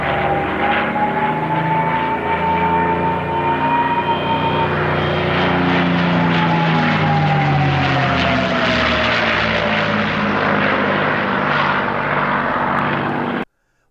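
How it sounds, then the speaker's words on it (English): A P-51 Mustang fighter's piston engine and propeller roar loud and steady for about fourteen seconds, a sustained drone that shifts in pitch as the plane passes, then cuts off abruptly. "The P-51's engine note is unmistakable."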